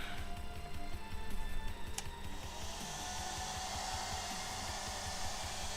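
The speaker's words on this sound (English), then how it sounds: "this stuff will dry super fast with a hairdryer" A hair dryer drying model paint on a 1/8th scale Tread Speeder blows with a steady, even whir nearby, with a brief click near the start.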